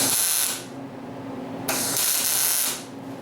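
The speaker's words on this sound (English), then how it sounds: "We're going to bubble weld the jaw tips here." Welding bubbles onto the jaw tips of a trap: two close, fairly loud bursts of crackling hiss, the first about half a second and the second roughly a second long, with a quieter hum between them.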